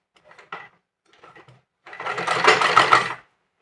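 Short bursts of fabric handling lead into a brief, close run of stitching as a sewing machine sews along the folded edge of a blouse sleeve strip.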